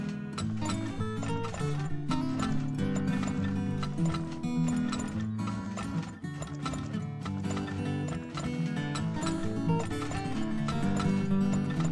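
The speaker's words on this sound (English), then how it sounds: "Go, my herd of horses!" Rapid clip-clop of a herd of horses galloping in the video game Turmoil, dense hoofbeats with an occasional whinny and mechanical clanking, layered over game music throughout.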